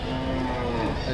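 A cow lowing in one sustained moo at a cattle market in Joydebpur, close and fairly loud over a noisy background.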